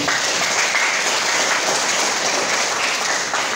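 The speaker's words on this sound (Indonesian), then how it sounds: "Tepuk tangan buat kita semua." Sustained applause from a large crowd at a seminar on bullying and sexual violence prevention, dense and even, filling the space without pause.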